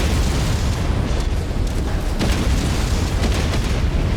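Deep, rumbling explosions of buildings being blown up in MechWarrior 5, heavy booms merging into a sustained low roar with no talk.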